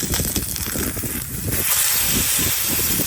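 Steady, dense sizzling and crackling hiss of meat searing on a Weber Lumin electric grill outdoors, continuous and fairly loud with wind rumble underneath.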